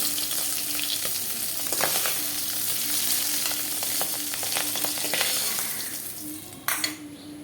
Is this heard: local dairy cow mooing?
no